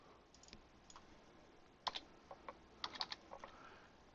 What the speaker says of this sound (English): Hit enter on my keyboard.